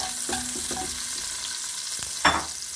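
Chopped celery stalks sizzling in oil and butter in a pan, a steady crackling fry with a few soft clinks and a brief louder sizzle as the pieces are tossed.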